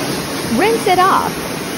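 A pressure washer rinses soap off a car at a dealership, giving a loud, steady hiss of spray throughout, while a voice speaks briefly over it.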